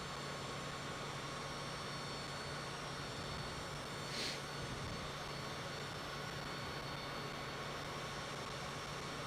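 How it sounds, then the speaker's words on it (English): An aircraft in Flight Simulator 2024 drones in a constant, even engine tone throughout, quiet and unbroken, with no one talking. "Oh, the engine noise is driving me crazy."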